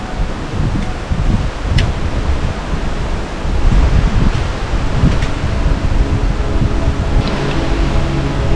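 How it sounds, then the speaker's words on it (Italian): Steady broadband roar of the Tofana di Rozes waterfall in the Dolomites above Val Travenanzes, a constant rushing wash of falling water that swells slightly midway and carries on unbroken throughout, with no voices. "Ed è la meravigliosa cascata della Tofana di Rozes."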